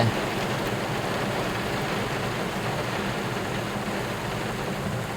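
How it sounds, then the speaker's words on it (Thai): Steady, hissing rainfall during a heavy downpour, an even wash of noise with no pauses or voices, holding the same level throughout. "ฝนตกฟ้าร้องแดดออก"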